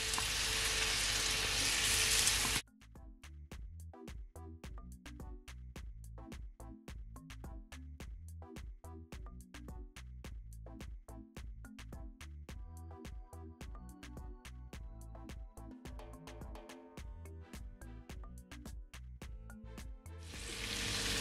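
Potato pieces sizzle steadily in a hot pan beside steak bites, a dense crackling fry with rapid scattered pops that runs continuously after a brief louder burst at the start.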